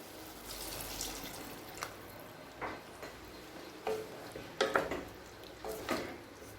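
Water poured and stirred into a simmering soya chunk gravy in a pan makes faint liquid swishing with a few light spoon taps and scrapes, quiet and close with no talking.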